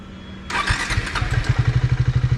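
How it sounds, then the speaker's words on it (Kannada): A Triumph Speed 400 motorcycle's 400cc engine cranks and catches after a short whir, then settles into a steady, rapid low thumping idle, close by. "ಸೊ ಸ್ಟಾರ್ಟ್ ಮಾಡೋಣ."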